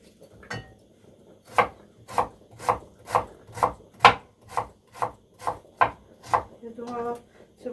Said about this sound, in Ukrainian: Нарізаю цибульку напівкільцями